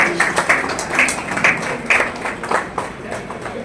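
Applause from an audience at a book launch event in Lucknow, a steady wash of many hands clapping with scattered sharper claps, moderately loud and continuous throughout, with no talking over it.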